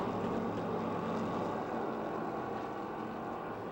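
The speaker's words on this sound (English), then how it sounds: "Look at the close racing action wheel to wheel in turns 3 and 4." Modified race cars run wheel to wheel through the turns at a speedway, heard as a dense, steady engine roar from some distance, with no voices.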